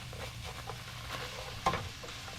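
Chopped onions sizzling in a pan for taco stuffed shells, a soft steady frying hiss with light crackles and one brief clink, quiet and close with no talk.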